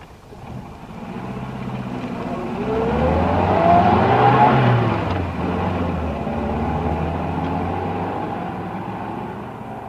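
A car engine starts and the car pulls away on a city street, its steady rumble swelling as it revs and accelerates, then settling into a continuous drone of driving, with no voices.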